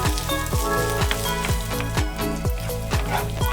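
Pasta is tossed with basil pesto in a hot pan off the heat, giving a steady close sizzle with rhythmic scraping pulses about every half second.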